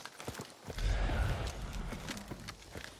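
Horses clip-clop in the video game Hunt: Showdown, their hooves striking in quick, uneven beats that swell into a louder cluster of hoofbeats midway, close and with no talk over them.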